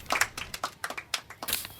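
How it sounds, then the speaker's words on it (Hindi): Students in a classroom clap for a classmate: a quiet, uneven scatter of individual hand claps, fairly close but soft, with no talking over them. "इसके लिए तालियां बजाओ"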